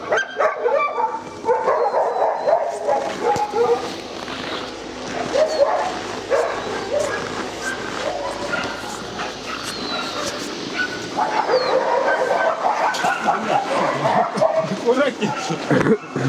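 Many dogs at an animal shelter bark, yip and whimper through the whole stretch, a busy chorus of kennel noise with people talking over it.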